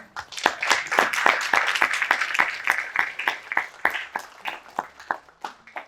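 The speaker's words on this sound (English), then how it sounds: "let's welcome the applause." Applause from an audience at a healthcare innovation conference session, steady dense clapping with sharp individual claps standing out, sustained for several seconds and thinning toward the end, with no talking.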